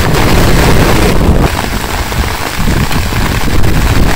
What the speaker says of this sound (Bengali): বৃষ্টি হইতেছে ঝিরিঝিরি